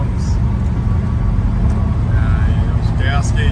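A 1969 Chevrolet Chevelle SS cruises at about 60 mph and 3,000 rpm, with a steady engine drone and road rumble heard from inside the car and a few faint squeaks near the end.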